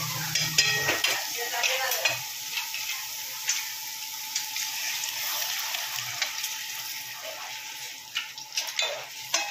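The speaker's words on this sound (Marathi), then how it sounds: "आता ह्याच्यामध्ये मी टाकणार आहे उकड केलेलं चिकन." Boiled chicken tipped into a green chilli masala frying in a pan for a chicken curry, then stirred: a steady sizzle runs throughout with scraping and clinking of the spoon against the pan.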